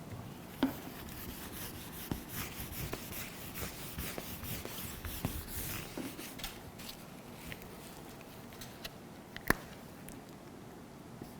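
Chalk writing on a classroom board during a French lesson, continuous rubbing and scratching strokes with sharp taps, close and steady for several seconds.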